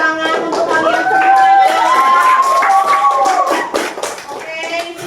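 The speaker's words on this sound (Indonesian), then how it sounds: "Berikan tepuk tangan untuk kalian semua." A classroom of students claps together in a dense, fairly loud burst of applause, with a voice speaking over it at the start; the clapping thins out toward the end.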